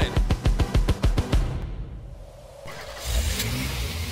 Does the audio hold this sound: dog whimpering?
no